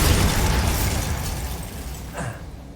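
A Bombarda spell explosion in the Hogwarts Legacy video game, a single loud blast that decays over a couple of seconds, followed by a brief swooping effect.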